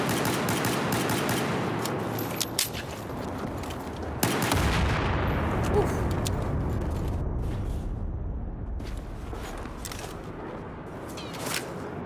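Gunfire in the shooter game Battlefield 4 aimed at the player: several sharp, close cracks and a short burst, each followed by a rumbling decay, with sparse shots spaced through a fading echo.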